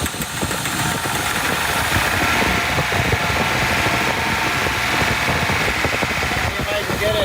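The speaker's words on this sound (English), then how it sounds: "a running 280Z out of a junkyard" A 1976 Datsun 280Z pulled from a junkyard runs steadily with the throttle held up, a loud continuous rough engine rumble close by with slight knocking texture and no break.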